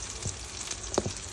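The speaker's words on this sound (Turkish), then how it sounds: "Fıstık patlıcanlarımız kızarıyor." Eggplants frying in olive oil in a pan, a quiet steady sizzle with a few soft pops and bubbling bursts, close and faint without talk.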